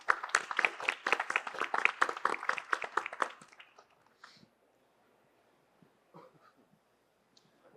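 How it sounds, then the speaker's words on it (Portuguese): Small audience at a pool-industry legislation seminar giving a short round of close, distinct claps that fade out after a few seconds, leaving near silence with a few faint stray sounds. "Por favor, mais uma salva de palmas a ele."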